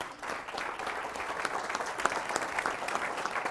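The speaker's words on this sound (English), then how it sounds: "Ladies and gentlemen, a round of applause, please." An audience applauding at the Ohio Auditor of State debate, a dense, continuous wash of clapping from a sizable crowd, steady and even with no talking over it.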